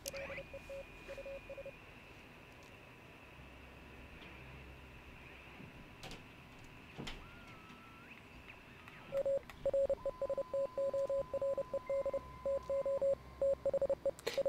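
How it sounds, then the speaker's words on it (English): Radio dial being tuned left and right in the video game Oxenfree, drifting through faint static and steady tones before a loud burst of rapid, pulsing beeps and stuttering signal chatter takes over in the final seconds. "just tune the dial left or right until you start hearing some weirdness"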